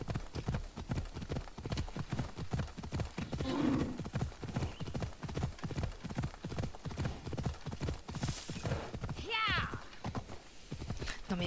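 Horse hooves clop in a steady rhythmic gait throughout, with a brief whinny, in a video game while a person talks over them.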